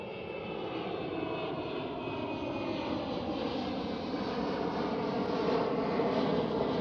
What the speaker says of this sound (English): KLM 777 right now departing on runway 18 left